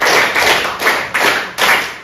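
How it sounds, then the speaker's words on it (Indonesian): Sixth-grade pupils clap in unison, several loud collective claps in a steady rhythm, heard up close and alone. "Tepuk 5."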